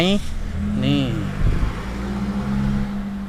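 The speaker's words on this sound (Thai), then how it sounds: "คีย์เลสมาครับเดี๋ยวผมสตาร์ทให้ดูเลยกันนะครับ" A white used Toyota Yaris eco car with keyless start cranks over partway through and settles into a steady, close idle hum; someone talks briefly at the start.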